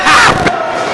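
A live crowd roars and cheers loudly throughout at an independent wrestling show in Morehead City, North Carolina, with a brief surge of shouting near the start.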